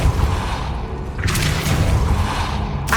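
Depulso spell cast in Hogwarts Legacy: a heavy booming magical blast with a low thump and rushing whoosh, loud and close, followed by a second burst near the end.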